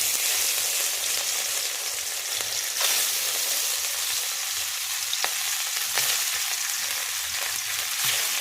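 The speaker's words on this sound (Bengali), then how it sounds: "মাছগুলো হলুদ এবং লবণ ভালো করে মাখিয়ে নিয়েছি, এবারে ওর তেলের মধ্যে দিয়ে দেব।" Rohu fish coated in turmeric and salt frying in hot mustard oil gives a steady, loud sizzle with scattered sharp pops and crackles throughout, with no voices.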